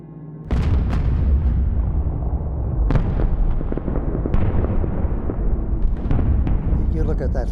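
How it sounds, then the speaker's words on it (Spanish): Heavy anti-aircraft fire and explosions over Kassel, Germany, in a wartime air raid, rolling as a continuous loud rumble punctuated by several sharp blasts and cracks. "Ves todo el fuego antiaéreo"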